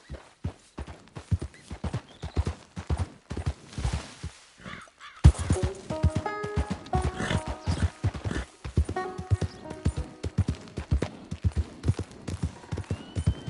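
Horse hooves clip-clopping steadily on ground in Red Dead Redemption 2, a continuous close trotting rhythm, briefly pausing before resuming with louder hoofbeats under tonal game music.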